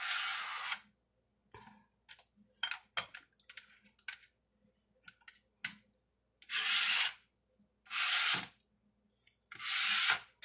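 Shaving cream is scraped off a surface to reveal a marbled pattern: irregular soft scraping and rubbing strokes, with several longer hissing sweeps near the end, close and fairly quiet.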